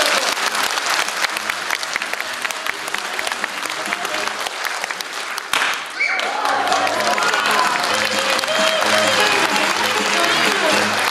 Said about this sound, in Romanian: Și acum vreau să aud cât de bine voi aplauda